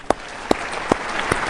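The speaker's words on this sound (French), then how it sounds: "Je vous prie de l'applaudir" Applause from an audience at an African Union summit session, a broad steady wash of clapping with a few sharper, louder claps standing out at roughly regular intervals, no talking.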